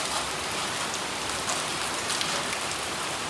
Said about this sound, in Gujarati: પછી જવાનું છે વરસાદમાં નાહવા.